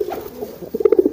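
Two young domestic pigeons coo close by in soft, low, throaty bursts, a few quiet notes building to a quicker rhythmic run of coos toward the end.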